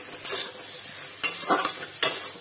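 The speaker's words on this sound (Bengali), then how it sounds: "এর সঙ্গে ভালো করে কষিয়ে ভেজে নেবো।" Taro stems and silver fish stir-fry in oil, soft sizzling broken by several spatula scrapes and stirs against the pan at irregular intervals, close and fairly quiet.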